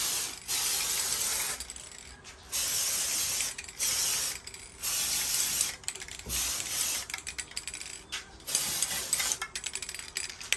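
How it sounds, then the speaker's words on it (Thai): Cotora coating spray can hissing over an old car engine bay in bursts of a second or two with short gaps, close and loud, ending in quicker short puffs. "พยายามฉีดไกลๆนะครับอย่าไปฉีดจี้นะ"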